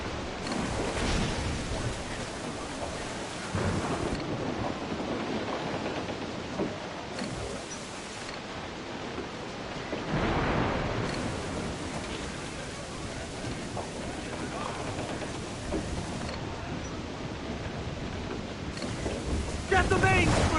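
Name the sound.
storm squall at sea in video game Assassin's Creed IV: Black Flag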